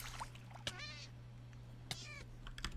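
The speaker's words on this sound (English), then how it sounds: "I make cat noises when I'm hurt" Meowing of a cat taking damage in the Minecraft video game, two distinct cries a second apart, each a short rising mew, over a steady low hum.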